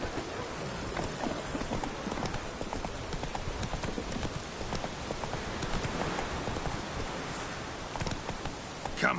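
Horse hooves clip-clop steadily through pouring rain in The Witcher 3, a rhythmic, close trot over a constant hiss of rainfall that runs unbroken from start to finish.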